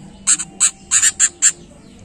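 Male gentilang bird calling close by, a quick series of about six sharp, harsh squawking notes in an uneven rhythm, loud and clear against quiet background.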